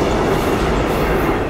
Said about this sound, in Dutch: Er kwam even een trein voorbij, dames en heren.